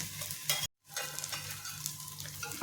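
A chapati topped with potato mixture roasts in oil on a pan, giving a soft steady sizzle with light stirring or scraping, broken by a brief moment of silence, with no talking.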